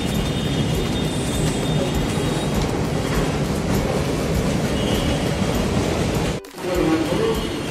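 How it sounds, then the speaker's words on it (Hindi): A slow suburban train rolling into Dadar station in Mumbai, a loud steady rumble of wheels and carriages with faint squeal and rattle, briefly cut by a dropout before the roar resumes; no talking. "ठाण्याची ट्रेन आलेली आहे, चढू आता."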